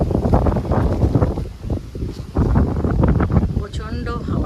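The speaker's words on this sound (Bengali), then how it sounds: "প্রচন্ড হাওয়া চলছে।" Strong wind gusts at the onset of rain, outdoors near a residential housing society, buffet the microphone with a loud, continuous low roar that dips briefly before surging again.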